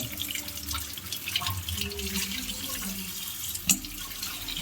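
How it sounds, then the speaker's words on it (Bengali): Tap water running over chicken meat as it is washed in a kitchen sink, a steady close splashing and trickling with one sharper knock near the end, with no talk. "মাংস ধোয়াধুয়ি চলছে"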